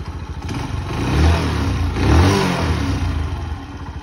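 A Lexmoto Arrow 125 motorcycle engine catches and runs, rising and falling through a couple of throttle blips over a rough, throbbing idle, loud and close with no talking.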